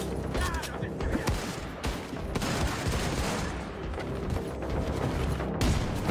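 Shotgun and gunfire in Wolfenstein, a dense fusillade of sharp blasts and mechanical clatter under a steady game din, with a voice talking faintly in the background.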